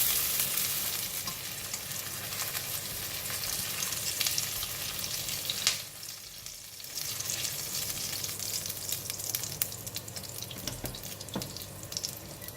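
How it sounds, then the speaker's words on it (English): Onions stir-fry in a pan for prawn fried rice, a steady broadband hiss and crackle of frying with scraping stirs, briefly dipping quieter around the middle before the sizzle resumes, no voices. "For onion, we will just want to stir fry until it's slightly softened"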